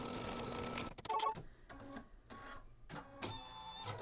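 An embroidery machine stitches down white fabric on a mug rug, its needle tapping in a quick, even mechanical rhythm that pauses briefly between runs of stitching, heard close and alone.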